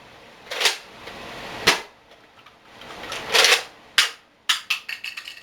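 A Nerf blaster fires green Zombie Strike foam darts, heard as sharp, close snapping shots: several spaced single pops and then a quick burst of rapid clicks toward the end, with quiet between.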